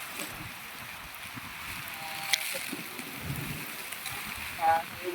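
Strong typhoon wind gusts roar and rain rushes steadily outdoors in Taiwan during landfall, with brief louder swells and faint voices in the background.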